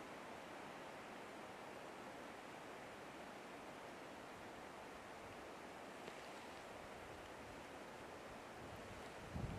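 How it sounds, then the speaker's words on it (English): Wind swirling through a forest at night, a steady broad rushing gust that holds evenly throughout, with a brief rumble near the end and no talking. "it's just got like a wind swirl all of a sudden"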